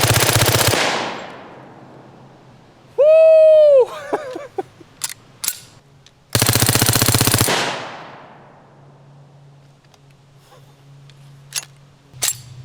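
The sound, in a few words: Reising M55 submachine gun firing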